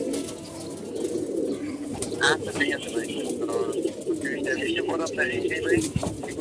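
A captured pigeon coos in repeated low, rolling calls close by, with people's voices in the background.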